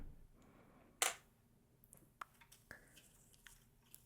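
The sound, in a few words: perfume being sprayed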